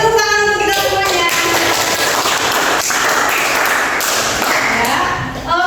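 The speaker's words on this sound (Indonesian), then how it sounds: "beri tepuk tangan untuk kita semuanya." Classroom applause from a group of students, steady clapping that fills the room at close range for several seconds, with voices mixed in.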